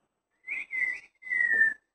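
A melody from the My Name Is Nobody soundtrack is whistled clearly and close up, in three sustained, sliding notes with short gaps between them, with no voices or background noise.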